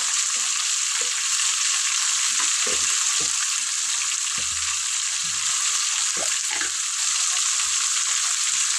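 Chicken pieces with chili powder, salt and turmeric cook in a pan for a green chicken gravy curry, giving a constant close sizzle and hiss broken by soft, scattered thumps of stirring.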